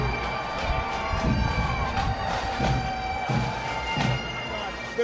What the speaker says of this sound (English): The crowd is pumped. They are ready to go.